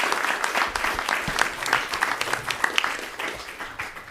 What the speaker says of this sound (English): could we give our presenters some applause?